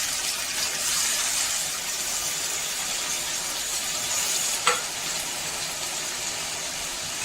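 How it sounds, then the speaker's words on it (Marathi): Green chilies and potatoes frying in a pan give off a steady close sizzle with a brief sharp clink near the end, and no voices. "मिरची आता परतली गेली म्हणजे तळली गेली मिरची तर आपल्याला आता ही बटाटे त्यामध्ये ॲड करायचं"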